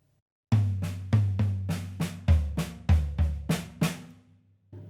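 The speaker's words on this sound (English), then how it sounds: "So we're going to play the paradiddle-diddle, the first one with our right hand on the rack tom and our left hand on the snare." Two paradiddle-diddle drum patterns played across rack tom, snare and floor tom, a close, loud run of about a dozen resonant tom and snare strokes in steady rhythm with no voices.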